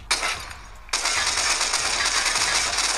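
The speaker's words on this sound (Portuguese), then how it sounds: "Ele dá muito tiro, velho. Muito tiro mesmo," Rapid automatic gunfire in the video game Los Angeles Crimes Online with a rapid-fire mod, a dense, continuous burst that briefly pauses and then resumes without letup.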